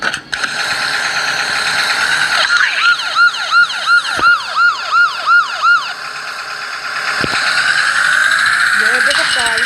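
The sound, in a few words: police car siren in Roblox video game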